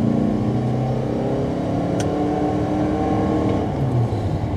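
Toyota Venza Limited hybrid SUV with a 2.5-liter engine accelerating hard in sport mode, a steady loud engine drone and road rumble heard from inside the cabin without talk.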